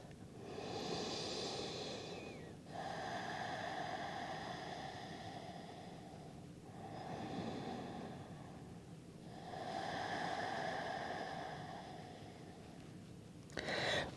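Slow, gentle breaths during a resting pose in a beginner yoga class come in soft, long swells with quiet pauses between them, steady and close, with no talking.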